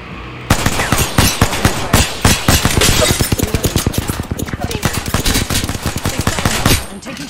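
Rapid automatic gunfire from the Apex Legends video game rattles almost without pause for about six seconds, loud and close, in dense bursts of tightly packed shots.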